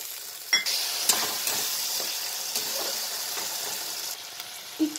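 Tomato added to a pan of fried onion, ginger, garlic and green chilli gives a steady, close frying hiss with a few soft stirring knocks, continuous throughout and without talk.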